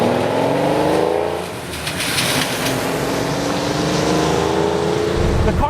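Lamborghini Countach engine droning steadily while driving, a loud continuous exhaust note with rising and falling tones, heard up close from inside the car.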